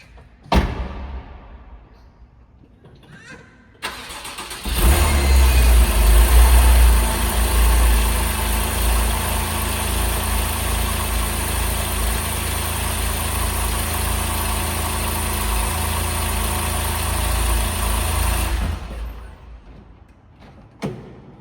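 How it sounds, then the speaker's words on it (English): A 2013 Porsche 911 Carrera coupe (991.1) cold-starts with a door sound, then its engine fires into a loud, high fast idle that holds steady for about fourteen seconds before shutting off. "Cold start"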